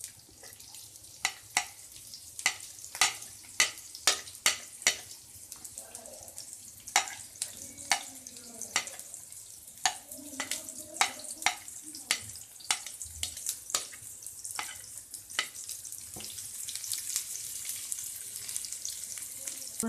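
Onions frying in oil in a pan over low heat give a steady, soft sizzle with a run of sharp crackles and pops, some of them close together, and no talking.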